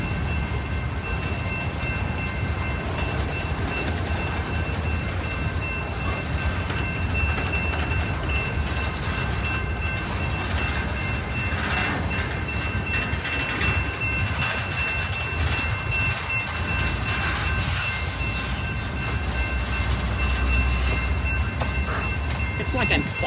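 A train rolls through a railroad crossing in Plymouth, Michigan with a loud, continuous rumble and faint clattering of wheels, sustained nearby throughout.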